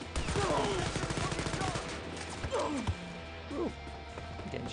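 Gunfire from the video game Wolfenstein Youngblood, a steady run of rapid shots across the first half that thins to scattered bursts, with game effects and voices mixed in.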